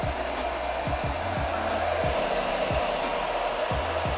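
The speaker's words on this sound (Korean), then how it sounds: "드라이기 이용해서 조금만 잡아서 약한 바람으로 가볍게만" A hair dryer blows with a steady, even whoosh, held on a gentle setting, with faint low bumps and handling noises underneath.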